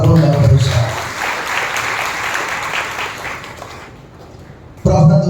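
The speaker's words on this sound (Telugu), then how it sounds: "బిగ్గరగా చప్పట్లు కొట్టి ప్రభువును మహిమపరుస్తాడు." A church congregation claps loudly together on Easter Sunday, a dense sustained burst of applause that fades toward the end before another loud burst with voices starts.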